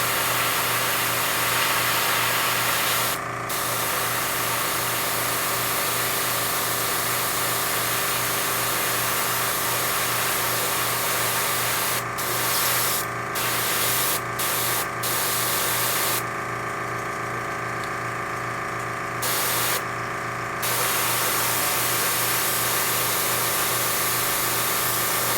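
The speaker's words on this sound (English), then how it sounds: "Let's see if we can spray this way" Airbrush spraying paint on Eldar defence walls, a steady hiss over the constant droning hum and pulse of the compressor, with a few brief bursts and gaps as spraying starts and stops.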